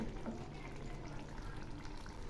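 Bengali fish curry gravy simmering with fish pieces in the pot, a soft continuous bubbling and faint sizzle, quiet and steady with no voices.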